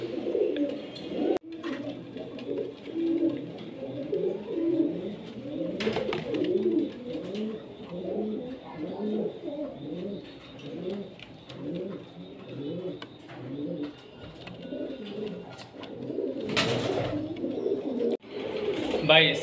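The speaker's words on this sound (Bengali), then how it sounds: "এগুলো লাল গিয়ারের কবুতর, আমার ঘরের ভিতরে কবুতর" Pigeons cooing steadily in an indoor home loft, with overlapping soft, throaty coos repeating nearby, broken by occasional brief knocks and rustles.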